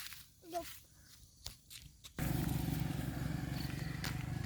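A motorcycle engine roars into a loud, steady rumble close by, cutting in abruptly after a couple of seconds of quiet scuffing and light movement sounds outdoors.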